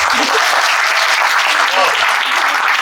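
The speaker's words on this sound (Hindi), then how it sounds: "और एक बार जोर से तालियां बजाओ।" Group of participants in a stretching session clapping loudly together, a bright sustained burst of many hands with a voice briefly audible underneath.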